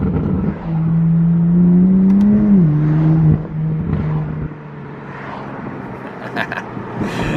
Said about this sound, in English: Usually S55s don't sound the best, but this Valvetronic exhaust actually complements this car very,